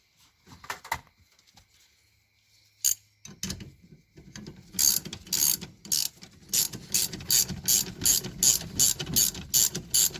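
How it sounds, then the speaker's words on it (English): A steering wheel puller/installer tool ratchets on the steering column of a 1972 Buick Skylark during an ignition cylinder change. A few scattered clicks and clunks come first, then a long, even run of sharp metallic ratchet clicks, close and loud. "Now I can put your steering wheel puller / installer tool back on."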